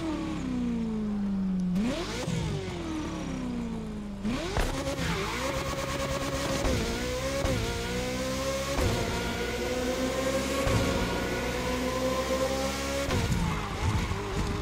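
A Ferrari SF90 Stradale engine in the racing game The Crew Motorfest revs and accelerates repeatedly, pitch climbing through gear shifts, loud and continuous with occasional tire squeal.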